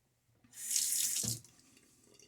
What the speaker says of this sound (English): rinsing and prepping my face and all that